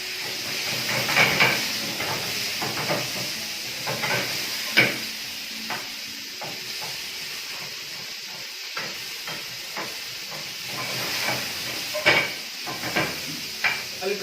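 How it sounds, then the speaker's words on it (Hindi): Chicken pieces hit hot oil while a Singaporean rice masala is prepared, sizzling and hissing steadily up close, with the clack of a spoon stirring through the pan at irregular moments and no voices. "ऑयल में चिकन शामिल कर रहे हैं"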